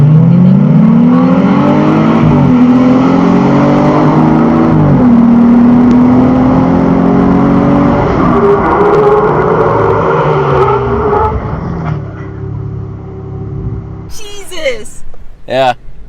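A re-geared Jeep Wrangler JLU with upgraded brakes accelerates hard to 50 mph, its engine loud and rising through gear changes, then the roar fades as it brakes, with voices breaking in near the end.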